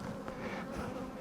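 Honey bees buzz in a dense, steady hum around an opened hive, close and continuous throughout the short moment, with no talk.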